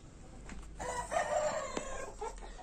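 Chickens clucking with a rooster crowing nearby in a farmyard, the calls moderately faint against quiet outdoor background noise.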